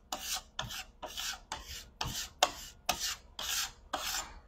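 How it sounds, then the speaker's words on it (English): A metal scraper rasps old finish off a pine dresser in nine steady, evenly spaced scraping strokes, close and crisp with a gritty texture, and no talking. "Your metal scraper might scratch your surface a little bit."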